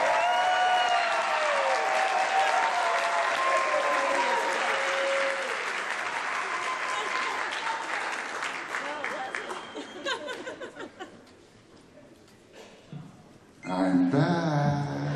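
Audience applauding a musician at a Music In The Schools jazz concert, a long, dense wash of clapping with scattered laughter that thins out and fades before a voice returns at the end.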